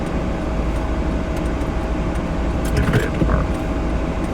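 A failing car engine starts and keeps running with a low, steady rumble, a faint whine and a few rattling knocks near the end, close and fairly loud with no voices.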